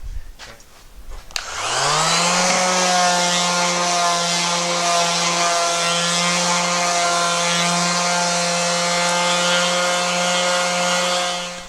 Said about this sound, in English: Alright, so I'm going to give these a quick sand.